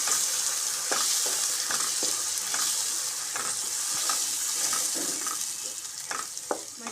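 Ground tomato paste sautéing in a hot pan for channa masala, a constant close sizzle and spatter with occasional scraping stir strokes, no voices.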